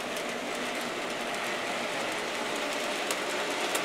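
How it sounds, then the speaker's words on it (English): An N scale model train runs on a layout, producing a continuous faint electric motor hum and soft wheel rattle, steady and close with occasional small clicks. "So we got a longer train now."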